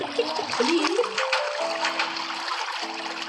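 Swimming splashes in water inside the Roblox video game, a steady broadband wash of sloshing and splattering with a few short tonal game blips layered on top, continuous for about three seconds.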